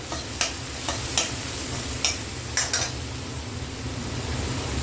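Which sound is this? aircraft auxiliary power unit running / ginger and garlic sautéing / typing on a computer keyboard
ginger and garlic sautéing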